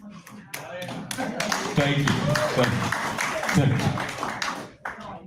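A stand-up comedy audience claps in scattered, uneven bursts at a live comedy show. Someone speaks briefly over the clapping.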